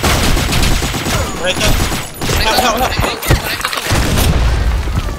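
Grenade explosions and heavy gunfire in the shooter game Blackshot, loud overlapping booms and rapid shots close by, with a brief voice exclamation in the middle.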